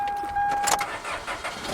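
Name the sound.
car engine starting up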